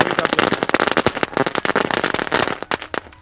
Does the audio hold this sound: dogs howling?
no